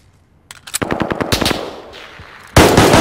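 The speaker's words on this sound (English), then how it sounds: "Gunfire will alert you to an enemy's presence." Rapid bursts of automatic gunfire crackle close and loud, trailing off briefly before another sharp, heavy burst erupts.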